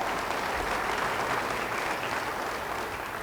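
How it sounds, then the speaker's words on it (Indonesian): A church congregation bursts into steady, dense applause that fills the space and holds at a constant level, with no talk over the clapping. "Yang percaya beri tepuk tangan yang meriah."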